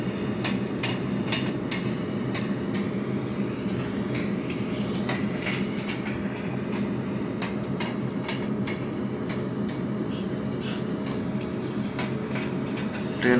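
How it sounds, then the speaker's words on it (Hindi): The 18621 Patliputra Express runs through the Open Rails simulator, a continuous rumble with steady, evenly spaced wheel clicks over rail joints, fairly loud and unbroken. "ट्रेन यहाँ से मुड़ने वाली है"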